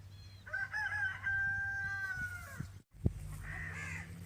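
A rooster crows once in a long drawn-out call, fairly close, in a village as chickens are let out, followed by a brief thump and softer bird sounds afterward.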